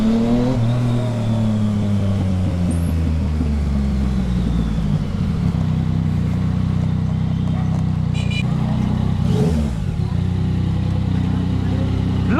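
A Yamaha XSR 900 motorcycle engine revs hard and loud close by, rising and falling pitch with a sharp surge near the end, while a rider talks over the roar.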